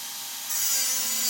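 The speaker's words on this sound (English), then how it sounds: "I had to cut the plug till it would break into half to come out of here" A saw cuts through the steel plug inside an aluminum drive shaft tube on an FC RX7 drift car, giving a steady close rasping hiss that grows louder halfway through.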